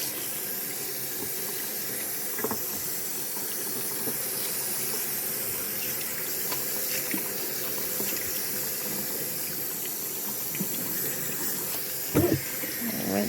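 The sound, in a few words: tap water rinsing a pumpkin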